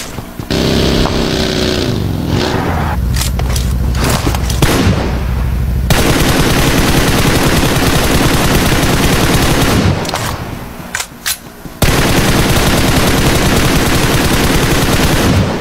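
Very loud, continuous automatic gunfire fills a video game match in long sustained bursts. Brief gaps and scattered single shots break it up.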